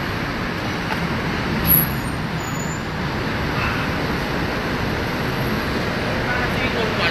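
Dense road traffic rumbling steadily, with engine drone and a broad wash of tire noise and a brief louder swell partway through, continuous throughout with no clear talk.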